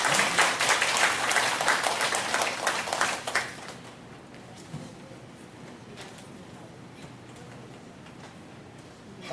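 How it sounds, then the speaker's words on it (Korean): A church congregation claps to welcome a long-serving deaconess and her husband at worship, with dense applause for about three and a half seconds before it fades to scattered faint sounds. "우리 박수로 환영해 주십시오"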